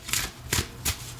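A deck of oracle cards shuffled up close in three brief, soft bursts of riffling, spaced about a third of a second apart, with no talking.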